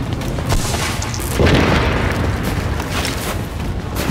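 A grenade detonates in The Division during a refugee camp mission, a broad boom around the middle of the stretch that swells and rolls off over several seconds amid steady game ambience, with no talking.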